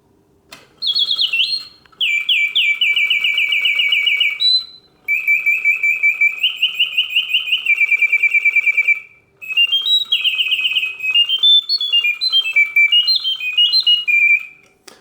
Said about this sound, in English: inside of the panels there is a beautiful blue Reuge singing bird